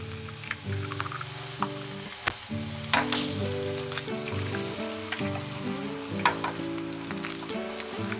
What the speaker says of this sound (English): while our eggs are cooking here